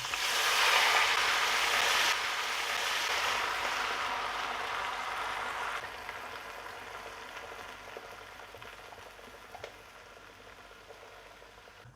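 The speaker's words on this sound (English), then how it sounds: "And then I'm going to pour in the apple cider." Apple cider pours into a pot holding pork laid skin side down on onions, giving a loud, steady liquid hiss that fades gradually over about twelve seconds, with no talking.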